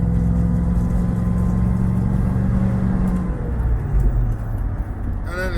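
Foxbody Mustang with an AOD automatic transmission accelerates, engine tone rising steadily up close, then easing back toward a lower rumble as the throttle lifts.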